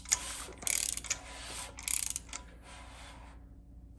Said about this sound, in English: See if there's any more that I can tighten down the bolts by hand.